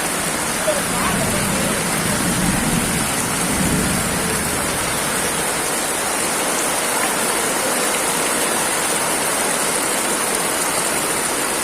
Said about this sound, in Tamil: கடுமையான மழையும் தான் இருக்கு.